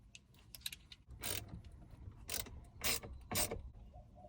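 A T30 Torx bit driver works a fastener loose on an F-150 rear seat latch plate, giving faint close clicking and ratcheting with a few louder scraping bursts in a quiet setting.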